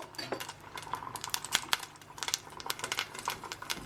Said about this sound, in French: Une fois l'eau de chaux ajoutée, nous allons alors mélanger pendant 5 minutes